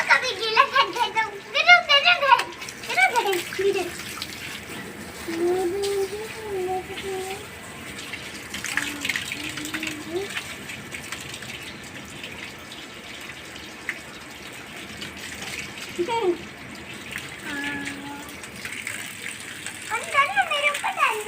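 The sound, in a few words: water splashing while washing household blankets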